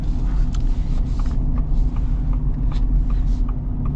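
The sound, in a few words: Ford Super Duty gas engine rumbling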